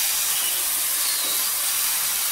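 Steady hissing sizzle of batter poured onto a hot, oil-greased griddle for a Lower Himachali ankli, loud and continuous with no voices.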